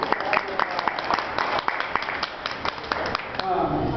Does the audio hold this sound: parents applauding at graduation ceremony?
yes